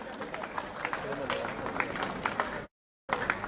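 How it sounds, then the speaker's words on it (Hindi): Audience clapping to welcome a guest at a district sports event in Kotdwar, Uttarakhand, steady and dense with speech over it, cutting out briefly before resuming. "तो गणेश थपलियाल जी तालियों से स्वागत अभिनंदन"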